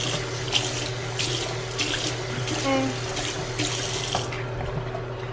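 Water runs steadily from a tap into a sink, a continuous splashing stream interrupted by a few soft scrubbing bursts, ending abruptly.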